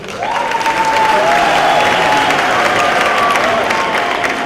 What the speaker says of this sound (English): Round of applause for our upper administration.